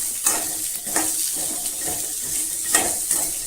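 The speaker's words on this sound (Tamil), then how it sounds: "நல்லா அந்த பச்சை வாசம் போகிற அளவுக்கு வதக்கணுங்க" Sliced radish for a spicy radish chutney sautéing in a pan, a steady close sizzle broken by periodic scrapes and stirring strokes of a spatula, with no talking.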